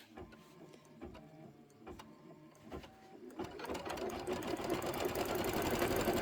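An embroidery machine stitches a tack-down on a badge embellishment in the hoop, starting with scattered clicks and building into a steady, dense whirring rhythm, with no talk.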